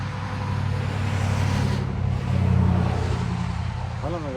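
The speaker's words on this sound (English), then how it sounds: "Oh, look at that car. Vehicle so quiet, went right by." A very quiet car rolls past outdoors, a soft low rumble that swells gently toward its closest point and then fades back out.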